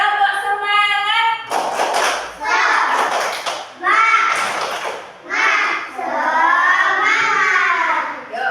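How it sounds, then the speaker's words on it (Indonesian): A classroom of children claps together in a rhythmic cheer, loud and close, with the children's voices chanting over the claps in bursts throughout. "Kita tepuk dulu aja."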